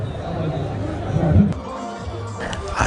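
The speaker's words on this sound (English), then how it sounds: "as this crowd jubilates" An excited crowd gathered at the opening of a new county headquarters, with a dense, steady babble of many voices and a brief swell of louder cheering in the middle.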